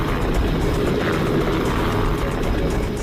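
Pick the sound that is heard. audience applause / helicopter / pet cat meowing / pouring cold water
helicopter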